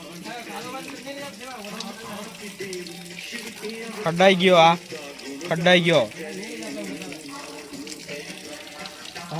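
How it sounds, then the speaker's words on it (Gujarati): Water runs steadily while a van is being washed outdoors, a continuous hiss under people talking, with louder vocal bursts in the middle. "ચાલો તો પહેલાં આપણે વાન ધોઈ કાઢીએ"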